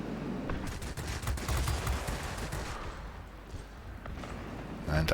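Aircraft guns fire during a World of Warplanes replay, a dense stream of rapid rattling shots over engine-like background noise, holding fairly steady throughout.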